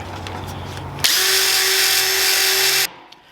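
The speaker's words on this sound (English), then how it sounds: "I'm gonna have to drill that out." A power drill whirs steadily at high speed for about two seconds, drilling out a broken part on a snowplow, close and loud, then cuts off abruptly, with faint handling noise around it.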